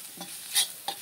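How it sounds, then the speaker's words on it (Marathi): Brief stirring of Malvani masala and salt into dried fish in a pan over a wood-fired stove, a few soft scraping strokes with a faint sizzle, quiet and close, no voices. "मिक्स करायचा आहे मसाला."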